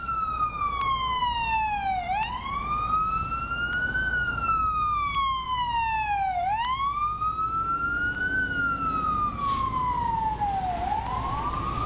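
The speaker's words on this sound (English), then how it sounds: "just a few minutes ago, a fire truck, take a listen." A fire truck siren wails loud and steady as it passes, its tone sweeping down and back up in long repeated cycles over a constant road rumble.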